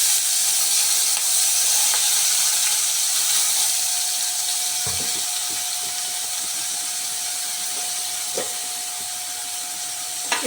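Chopped onions, capsicum and tomato fry in a little oil for pasta, producing a loud, continuous hiss with a couple of faint clicks and no voices.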